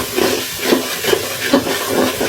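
An onion, ginger and garlic masala fries in a pan while pulao is being cooked. It makes a steady, loud, close sizzling hiss with soft bubbling pops repeating throughout.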